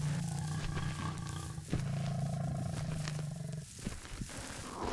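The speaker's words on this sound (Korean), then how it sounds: "같은 포효가 희미하지만 기억처럼 또렷하게 들려왔다." A lion roaring on the savanna: deep, rumbling roars repeat in a series with short gaps between them, moderately loud and carrying, with no talking.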